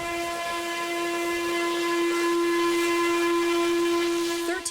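Steam locomotive 1309, a restored Western Maryland Scenic Railroad engine with a newly rebuilt boiler, sounds one long, steady whistle blast with hissing steam beneath it, loud and close, cutting off sharply at the end.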